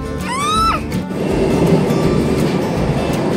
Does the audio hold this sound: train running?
yes